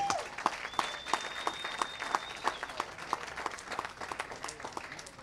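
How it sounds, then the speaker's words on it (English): Applause from the crowd at the PWBA Greater Detroit Open bowling finals, steady clapping with a few sharp rhythmic claps standing out near the front, fairly soft overall. "How about a nice big round of applause for all the competitors?"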